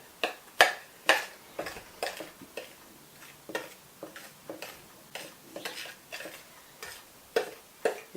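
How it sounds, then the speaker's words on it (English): A spoon mixing flour into cookie dough in a bowl, producing a steady run of sharp, close taps and scrapes roughly twice a second, loud and alone. "you just need to mix with a spoon till all the flour's gone in"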